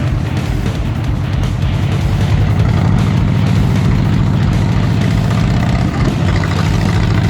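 A Harley-Davidson Dyna motorcycle engine idles steadily and loudly up close, a continuous low, throbbing rumble with no talking.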